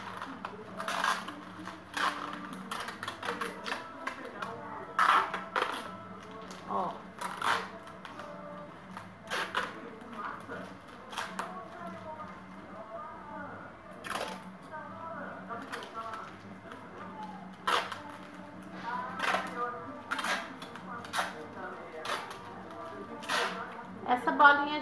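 Adhesive tape is pulled and wrapped tightly around a crumpled paper ball, making repeated sharp crackles and tearing rasps up close in an irregular rhythm, with a person talking throughout.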